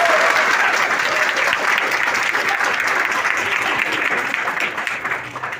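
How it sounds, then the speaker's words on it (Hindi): Enthusiastic applause from an audience at a store branch group dance event, a dense, loud burst of clapping that tapers slightly toward the end, with faint voices underneath. "उनके लिए जोरदार ताली बजाएं।"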